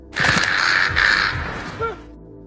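A crow gives two loud, harsh caws in quick succession, each drawn out and close by, followed by a fainter, shorter call as the sound trails off.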